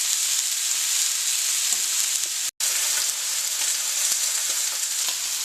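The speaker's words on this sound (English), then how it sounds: "And now into my rather hot pan for 2 minutes on each side." A T-bone steak sears in a very hot pan with a steady, loud broadband sizzle that runs throughout, broken by a brief moment of silence midway, with faint clinks in the background.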